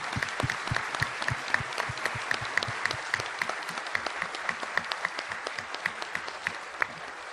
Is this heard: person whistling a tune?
no